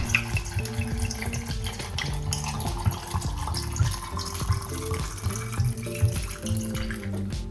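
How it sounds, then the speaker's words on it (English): A steady stream of vodka pours over sour cherries into a jar, with a continuous splashing, gurgling liquid sound that stays fairly loud and close throughout, under faint background music. "We pour a quart of quality vodka over all of it, all the way to the top of the jar."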